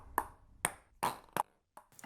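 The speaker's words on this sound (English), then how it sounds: "a factory preset, for example, where someone recorded noises from a ping pong game" Ping pong game noises sampled into a sampler preset: a handful of sharp, separate ball pings and knocks in an irregular rhythm, close and clean with silence between hits.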